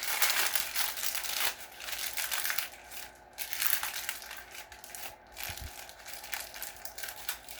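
Dryer lint twisted back and forth into a tight roll for a fire starter gives soft, close crinkling and rustling in uneven waves.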